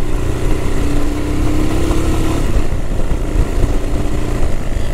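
Small Villiers two-stroke vintage motorcycle ridden along a country B road, its engine droning steadily and loudly up close throughout, with a buzzing exhaust note and a tone that shifts slightly midway.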